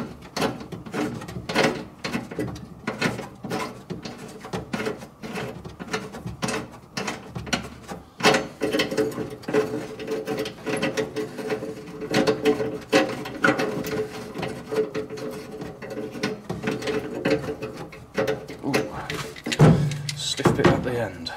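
A ratchet strap is worked loose on a small restoration project, giving repeated clicking ratchet-and-pawl bursts with some mechanical rattling over roughly twenty seconds, close and moderately loud, with talking over parts of it.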